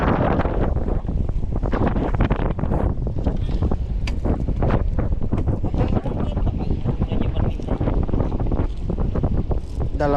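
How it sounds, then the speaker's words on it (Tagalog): Strong wind from a typhoon roars steadily into the microphone at sea for the whole stretch, loud and buffeting, with faint water and fishing boat noise underneath. "lakas na ng hangin men"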